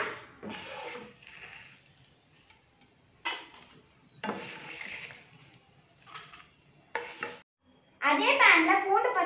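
Roasted spices for Mettur fish curry are scraped out of a pan onto another plate. Several short, close scraping and clattering bursts are separated by quiet gaps, ending in a louder, busier rattle.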